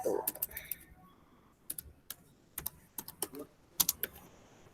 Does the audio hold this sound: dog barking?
no